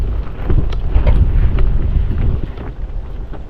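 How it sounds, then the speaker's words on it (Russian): Strong wind gusts batter a tent at evening, roaring and buffeting loudly against the microphone and fabric, with rustling flaps and low rumbling throughout and no speech. "А на улице сильный ветер."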